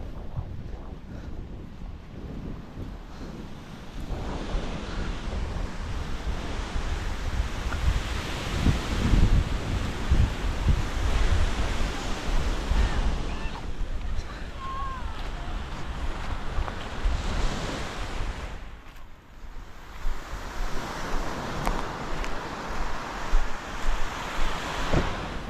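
At the seaside, waves surge and wash in rolling swells, mixed with gusty wind buffeting the microphone, loud and continuous for about twenty-five seconds with no talk.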